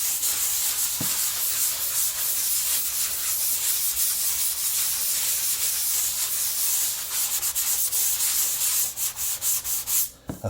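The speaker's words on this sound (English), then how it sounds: "Now that I finished sanding it" A drywall patch being sanded by hand in circular motions makes a steady, close, dry rubbing hiss, with a few brief scuffs and taps near the end and no voices.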